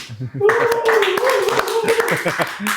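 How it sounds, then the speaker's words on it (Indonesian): Brisk, close clapping from a few people on an Indonesian podcast set, a busy run of sharp claps mixed with overlapping voices talking and laughing loudly throughout. "Tepuk tangan."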